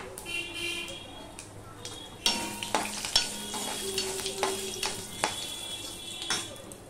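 Panch phoron and whole garam masala with a bay leaf sizzle in hot oil in a home kitchen pan, a steady close crackle with sharp stirring clatters and brief spoon taps throughout.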